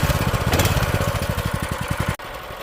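An old motorbike engine runs steadily while warming up after years of sitting, a loud, even chugging idle with a regular firing pulse, briefly cutting out near the end before continuing.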